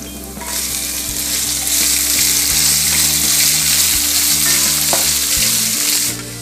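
Onion frying in a pan with ginger gives a loud, steady hiss of sizzling oil close by, starting abruptly and cutting off near the end, with a low droning hum underneath and no talk.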